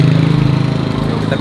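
A car engine running at low revs as the vehicle reverses, a steady close rumble with a faint rhythmic pulse, and a voice talking over it.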